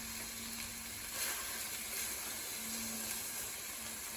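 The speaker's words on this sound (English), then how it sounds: "saute them until they're brown" Salmon pieces sautéing in a pan, a steady soft sizzle and hiss that stays even throughout, faint and close, with no talking.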